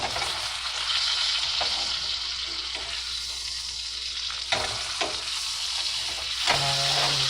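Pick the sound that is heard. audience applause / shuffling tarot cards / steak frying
steak frying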